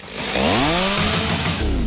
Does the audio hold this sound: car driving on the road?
no